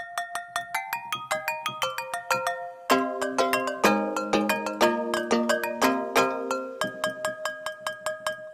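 Sampled bell instrument patches played as a synth demo, bright clean bell tones struck one at a time in a rising run, then layered chords ringing with quick repeated strikes and decaying tails, no talk.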